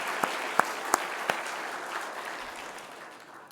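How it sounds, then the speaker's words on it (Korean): A church congregation at a New Year's Eve service applauds the choir, a few sharp claps up front leading into a broad wash of crowd applause that slowly fades away. "다시 좀 크게 박수 주겠습니다"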